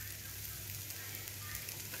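French toast made with egg, milk and cinnamon on multigrain bread frying in a pan, a steady soft sizzle running evenly throughout with no talk over it.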